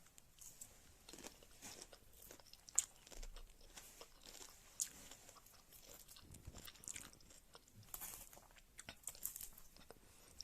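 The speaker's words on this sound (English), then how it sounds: "Some salad ASMR." Crunchy bites and chewing of a Wendy's salad, close and steady across the whole stretch, with sharp crisp crunches scattered throughout and no talking.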